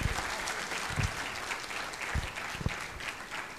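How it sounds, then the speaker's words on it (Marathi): An audience in a hall at a memorial award ceremony claps in a steady, moderately distant round of applause. "टाळ्या वाजवा तुम्ही त्यांच्यासाठी"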